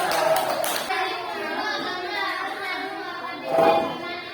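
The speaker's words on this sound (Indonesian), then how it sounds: "Tepuk tangan." Schoolchildren in a classroom clap their hands in two short bursts, one at the start and another near the end, with children's voices and talking around the claps.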